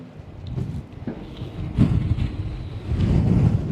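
Blizzard wind gusts buffet the microphone in a low, rumbling roar that swells and fades irregularly, growing heavier toward the end, with no speech.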